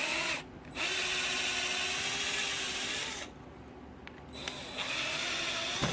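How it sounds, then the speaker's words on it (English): A power drill enlarges holes to a quarter inch in a 1/6th scale Dragon Sherman tank suspension part, a loud steady close whine that drops briefly twice between runs, with no talk. "All these holes here will be drilled out to a quarter inch."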